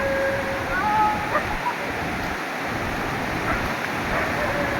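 A stream swollen with rainy-season water rushes steadily, a dense, continuous roar of flowing water close by with no breaks.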